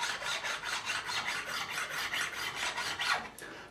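A flat file rasps steadily back and forth across the frets of a Fender American Standard Telecaster guitar during a fret level, a close, continuous scraping in even strokes with no voices.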